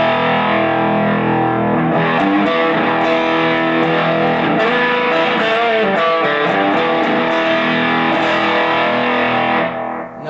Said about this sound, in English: Nice, fuzzy, exactly what you want out of the fuzz.